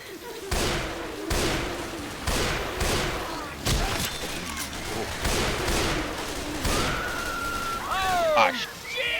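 Gunfire in Left 4 Dead 2 comes as a string of loud, evenly spaced shots with a heavy thump to each, followed by a few rising whoosh effects at the end.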